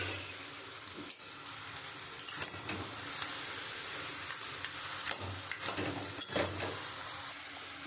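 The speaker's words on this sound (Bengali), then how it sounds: "আমি এখন মাছের মাথাটা দিয়ে দেবো।" Rohu fish head dropped into a pan of ash gourd, frying with a steady broadband sizzle and a few soft clatters and stirring knocks, close and alone.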